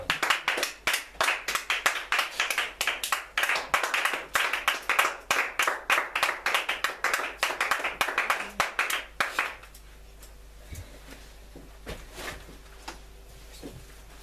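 A church congregation claps and applauds together in steady, rapid rhythm for about nine seconds, loud and close, then the clapping stops abruptly, leaving a quiet room with faint noises.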